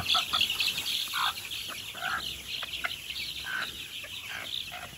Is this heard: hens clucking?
yes